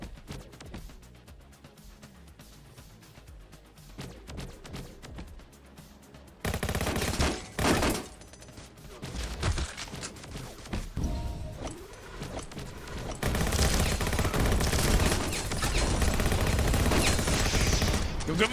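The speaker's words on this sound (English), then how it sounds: "Go missiles! Yes! All the bazookas." Missiles and bazookas firing in the battle-royale game Skillshot City, dense booming blasts and rapid fire that build from sparse bursts to a continuous loud barrage with game music underneath.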